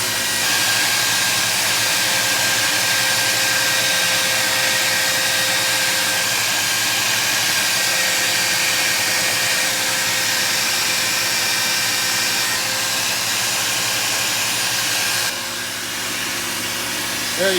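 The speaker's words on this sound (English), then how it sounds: "And now I'm using a belt sander." A belt sander runs steadily on a wooden hand guard for a Henry AR-7 .22 rifle, a loud continuous whirring drone with a slight change in tone near the end and no talking.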